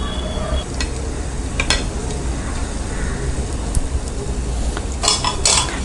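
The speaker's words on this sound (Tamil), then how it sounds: "நல்லா சூடு பண்ணிவிட்டு டீப் ஃப்ரை பண்ணிக்கலாம்." Kandarappam batter deep frying in hot oil over a low flame, a steady dense sizzle throughout with occasional brighter crackles and a few light utensil clinks, no talking.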